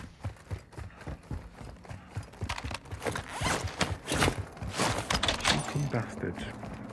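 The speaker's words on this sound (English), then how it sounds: "They behind you, I can hear footsteps." Footsteps in a multiplayer shooter game, a run of quick irregular thuds and scuffs that grow louder and closer midway, heard under players talking over voice chat.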